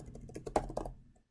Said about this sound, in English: I'm going to type in carpet.